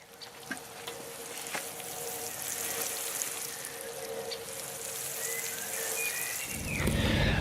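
Water splashes steadily onto squash plants in a garden, a continuous broadband spray with faint drips, rising to a heavier, closer gush near the end, no talk.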